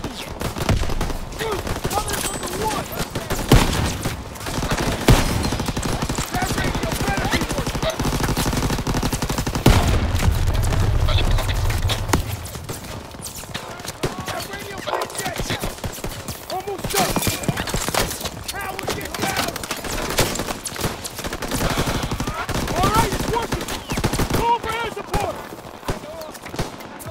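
Gunfire crackles from the woods in Call of Duty WW2, dense bursts and rattling shots layered over battle noise and heavy low rumble, with voices shouting amid the fighting.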